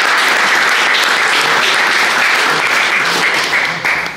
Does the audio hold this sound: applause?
yes